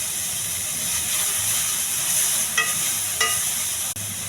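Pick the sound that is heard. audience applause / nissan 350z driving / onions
onions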